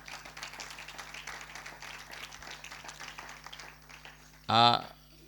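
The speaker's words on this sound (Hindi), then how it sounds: "इन बहनों की टीम के लिए ज़ोरदार तालियां बजा दीजिएगा।" Seminar audience applauding at a one-day church seminar, a soft spread of clapping heard at a distance under room noise, followed by a brief loud burst near the end.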